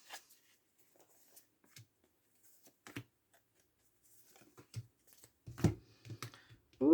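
Quiet, sparse riffling and soft slaps of Phoenix oracle cards being shuffled by hand, scattered short bursts with pauses between, growing slightly busier toward the end.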